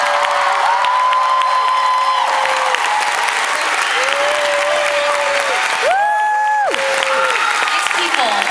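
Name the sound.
audience applause and cheering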